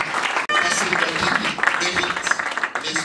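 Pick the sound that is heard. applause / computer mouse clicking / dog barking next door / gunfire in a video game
applause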